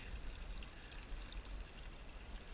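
A creek flows in a steady, soft rush of running water outdoors, a faint continuous wash and trickle with no speech.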